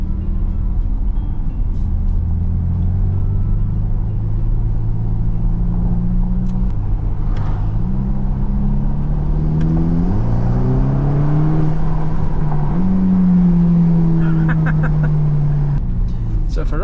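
Engine of a 2024 Ferrari Roma Spider in sport mode: a steady deep drone from inside the car that climbs in pitch as it pulls through gears, with stepwise rises and a brief drop under constant road rumble.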